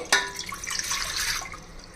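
Water poured from a glass into a pot of rice for prawn pulao, a sharp splash at the start giving way to a steady trickling, dripping pour close by, with no talking.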